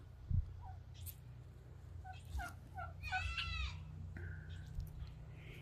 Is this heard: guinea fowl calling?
yes